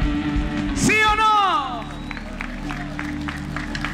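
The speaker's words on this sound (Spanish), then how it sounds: "Démosle ese aplauso al Rey." A church congregation applauds during a worship service, with steady clapping spread through the room, a voice sliding upward over it at the start, and speech continuing beneath.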